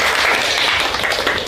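Students in a high school classroom clap their hands together in a dense, loud burst of applause lasting a moment.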